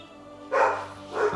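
Two short bursts of dog barking, a pet in a home, sounding close and fairly loud with a brief pause between them, no talk over it.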